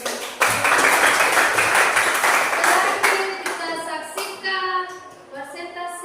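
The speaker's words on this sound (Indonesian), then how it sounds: "silakan memberikan tepuk tangan" A classroom of students claps for a presenting group, loud dense clapping for about three seconds that thins into scattered claps, with voices talking afterward.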